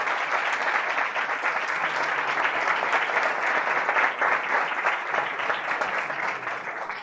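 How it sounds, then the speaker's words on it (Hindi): A church audience applauds steadily, with dense, continuous clapping that stays loud and even throughout, with no voices standing out. "मसीह के लिए तालियां बजाएं।"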